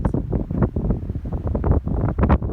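Steady gusty wind on the Continental Divide Trail in New Mexico buffets the microphone with low rumbling roars that swell and ease throughout, loud and close.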